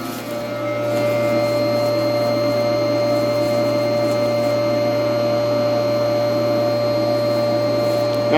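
Vacuum system running in a maple sap releaser with ice forming inside, a steady loud mechanical hum with a strong constant tone, continuous and close throughout.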